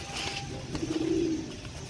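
Champion show pigeons kept by a fancier in Karachi coo, one soft, drawn-out coo rising mid-clip over quiet background rustle and faint chirps.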